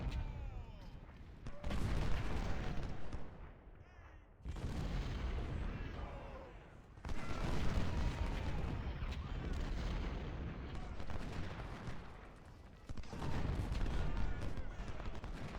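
Artillery cannon booms and rattling musket volleys from the Civil War strategy game Ultimate General at Gettysburg, loud and continuous in several heavy bursts with brief lulls between, a voice faintly under the din.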